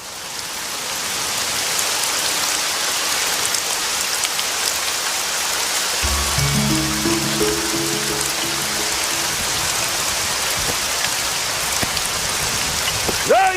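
Steady, heavy rain pours down over a farm field, a dense unbroken hiss from start to finish, with low tonal sounds joining in partway through.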